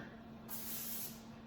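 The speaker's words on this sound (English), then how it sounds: "So when I spray any of my pans with non-stick spray, I do it on the door of my dishwasher." Non-stick cooking spray hisses from a can onto pans held over an open dishwasher door, one short steady spray burst in a quiet kitchen.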